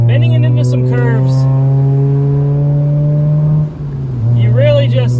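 A Mazda RX8 drives through curves with a steady, loud engine drone that briefly dips and shifts pitch as it changes gear, with a voice heard at the start and end.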